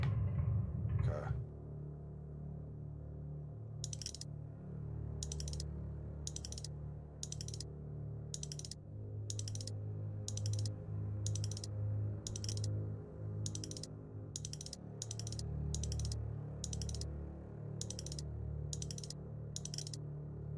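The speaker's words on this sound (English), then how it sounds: "when I go from 1 to 2, listen to the clicking" A safe combination dial turns in the video game Get Even, giving a long run of evenly spaced, crisp mechanical clicks, about one every second, over a steady low ambient hum with no talking.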